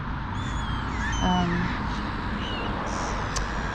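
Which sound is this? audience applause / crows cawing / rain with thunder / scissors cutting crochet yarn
crows cawing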